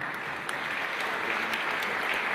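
An audience at an honours ceremony in Paris applauds, a brief, steady wash of clapping with no pauses.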